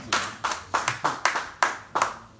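A small group claps for a guest in roughly seven sharp, distinct claps at an uneven rhythm, close and fairly loud, with no voices over them.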